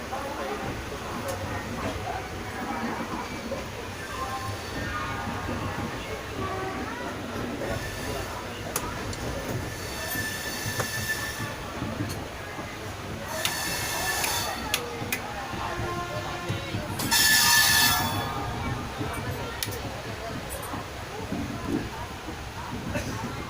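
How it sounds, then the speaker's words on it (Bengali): A train pulling out and running on rails, a continuous rumble with rhythmic clatter, bursts of hiss and a sharp squeal near the end, heard from on board amid background chatter and ambient noise. "এবার কত জনে এবার ট্রেন ছাড়ে"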